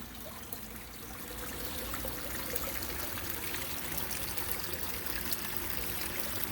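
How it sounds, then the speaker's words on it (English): Water pours steadily down a waterfall aquarium tank with a strong flow, a continuous close trickling and splashing rush that grows slightly louder, with no voices. "But we do have a pretty significant water flow."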